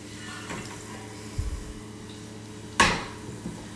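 Cooking pans used for frying Chicken 65 clang and knock on a kitchen stove, a dull thud followed by a sharp metallic clank and a lighter tap, heard alone against a quiet room hum.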